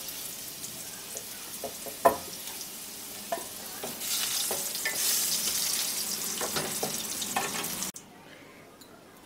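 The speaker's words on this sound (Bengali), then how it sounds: "আলুগুলো তুলে নেওয়ার পরে ওই তেলের মধ্যে ফোড়নটা দিয়ে দিলাম, গোটা জিরে আর গোটা গরম মশলা আর 1টা শুকনো লঙ্কা দিয়ে দিচ্ছি।" Whole cumin, whole garam masala and a dried chilli hit hot oil left from frying potatoes for a prawn and potato kalia; a crackling sizzle swells midway with a few sharp clicks, then drops away abruptly.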